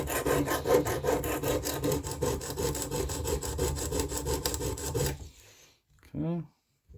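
A Leatherman Rebar blade is stroked across a sharpening stone in a steady run of close, gritty rasping passes that stop abruptly, followed by a brief quiet tail.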